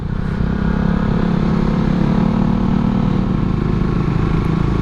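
A fuel-injected Suzuki Satria motorcycle with a hard aftermarket clutch spring runs on a sandy U-turn road, its engine a steady, loud, continuous drone throughout with no talk over it.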